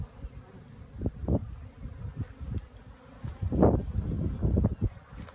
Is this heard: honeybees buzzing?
yes